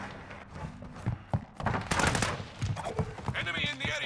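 Gunfire in Call of Duty: Modern Warfare II (2022), a burst of sharp shots and rapid rattling bursts with thuds, loud and close amid game noise.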